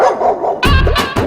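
A person imitates a dog, letting out loud, close, hoarse barking yelps in two or three short bursts after a breathy whine, in a comedic scene.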